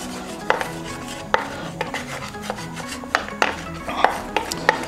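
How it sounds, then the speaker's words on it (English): A utensil stirs three scrambled eggs in a pan being moved on and off the heat, giving intermittent light clinks and scrapes against the pan at an uneven rhythm, close and moderately loud. "Keep stirring, and then off the heat again."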